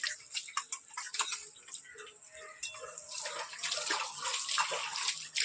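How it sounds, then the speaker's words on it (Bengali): Hands scrubbed with soap under a running kitchen tap after grinding chili paste, a steady close wash of water with light clicking and rubbing noises throughout. "ভালো করে সাবান দিয়ে হাত ধুলাম"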